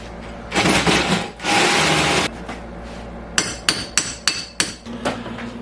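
A hammer drill roars in two sustained loud bursts while drilling through a wall, followed by a series of sharp, evenly spaced hammering impacts close by.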